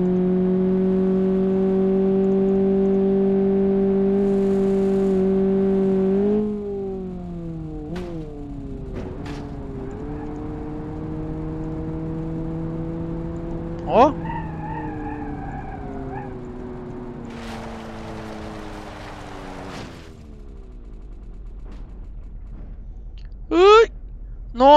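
Russian cars in BeamNG Drive race up a ramp at full throttle, loud harmonic engine drones rising and falling as they accelerate, with sharp tire squeals and skids breaking in near the middle and end.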